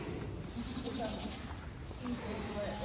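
Goats in a large UK milking parlour bleat several times in short calls, faint to moderate, under close conversation and the constant hum of parlour machinery.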